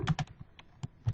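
Several quick close keystrokes on a computer keyboard, sharp clicks in an uneven burst with brief gaps between them.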